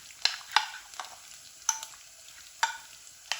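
Food being mixed in a pan with a spoon, each stroke a short scraping clatter, about six spaced strokes over a faint sizzle, close and fairly quiet with no voices.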